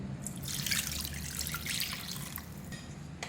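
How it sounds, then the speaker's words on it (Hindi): Water poured into a bowl of chicken soaking in vinegar and salt, a steady trickling splash that runs for a few seconds at close range with no talking. "पानी डालूँगी"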